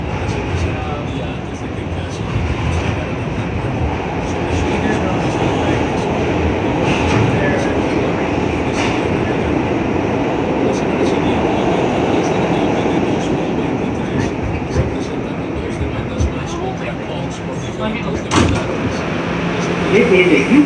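Steady rumble of an R211A C subway train riding underground, a continuous loud rolling roar with faint squeals and rattles throughout, no voices heard.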